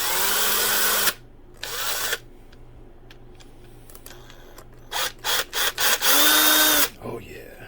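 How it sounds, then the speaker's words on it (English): A dull drill bit whirs through plastic in several bursts, first two longer runs and then a quick series of short pulses, with quiet pauses between them. "it kind of burns through it if it's dull"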